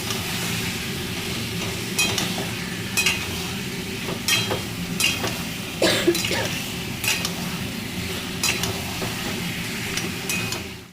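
Marinated meat sautés and sizzles in a pan, a steady frying hiss running throughout with repeated scrapes and clinks of a spatula stirring against the metal, close and fairly loud, with no talking.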